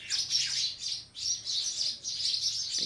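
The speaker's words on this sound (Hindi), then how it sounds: "चिड़ियों का तो राज है" Small birds chirp and tweet in quick, repeated bursts of high, bright calls, fairly close and steady across the moment, with no talking and only faint low background hum outdoors.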